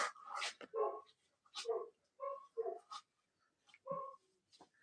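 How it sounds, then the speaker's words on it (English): Dogs bark outdoors in a string of sharp, moderately distant barks, fairly regular with short gaps and some whimpering between. "My dogs are barking at something."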